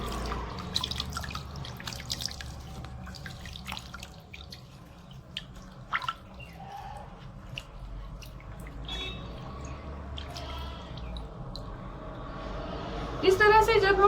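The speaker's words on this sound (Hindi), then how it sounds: "जब हम पौधों को पानी के अंदर भिगो कर रखते हैं और जब इनमें से बुलबुले आने बंद हो जाते हैं" Indoor potted plants soak in a tub of water, giving off soft bubbling and scattered small drips, with a voice talking over parts of it.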